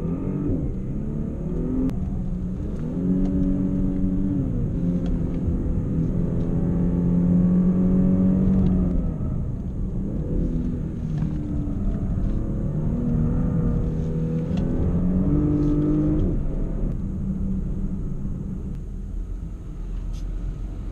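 Kia Stinger GT driven around an autocross course in the Mojave Desert: steady engine drone with repeated revving surges and lifts as the car accelerates and slows through the course, heard from inside the cabin.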